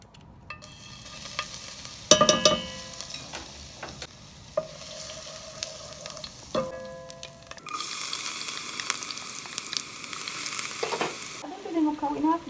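Vegetables being sautéed in olive oil and ordinary oil directly in a soup pot for bulgur soup, with a steady sizzle, utensil clinks and stirring scrapes, then a louder burst of frying hiss as more ingredients hit the hot oil.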